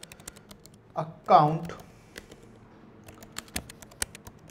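Computer keyboard typing while entering details into a Salesforce flow screen, heard as scattered light clicks and taps around a brief burst of speech.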